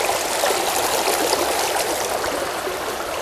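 Creek water rushes and burbles over a shallow riffle in a continuous, close, fairly loud wash with no voices.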